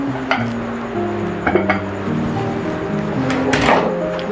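Lid lifted off a pot of beef yakhni pulao on the stove, giving a few light metallic clinks and knocks over a low steady kitchen hiss, then a soft rushing puff of steam.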